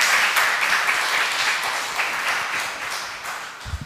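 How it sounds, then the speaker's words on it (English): An audience at a spoken word poetry event for a Catholic social justice commission applauds, a steady wash of clapping that gradually fades and thins toward the end. "Please give them a big round of applause."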